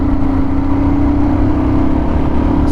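A Royal Enfield Guerrilla 450 motorcycle engine labours as it pulls from fifth gear, a steady, loud, continuous drone with a strong low hum throughout and no voices.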